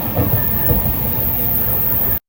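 Ahmedabad metro train running on its rails, a steady close rumble with faint rhythmic clatter and a thin squeal, continuous for about two seconds before cutting off abruptly.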